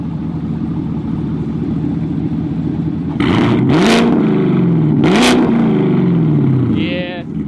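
A car engine idles steadily, then revs hard twice in quick succession, each rev rising and falling back loudly up close, with a brief voice near the end.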